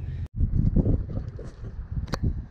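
Strong wind buffets the microphone in low, rumbling gusts, with a brief dropout and a faint high click near the end.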